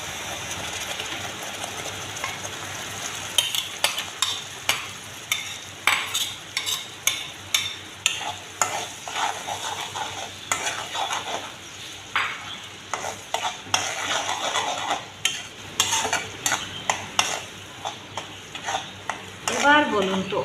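Tomato paste fries in a pan while being stirred vigorously, giving rhythmic repeated scraping strokes of a spoon over a continuous sizzle, fairly close and steady for about twenty seconds.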